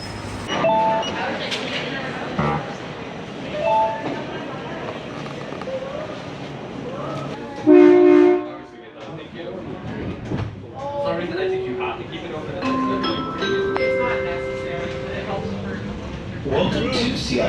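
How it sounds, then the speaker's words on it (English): A Seattle Center Monorail train pulls into the platform with a rising mechanical whine, a brief loud burst as it arrives, then tonal motor hums and squeals as it slows, while people talk nearby. "Welcome to Seattle Center Monorail."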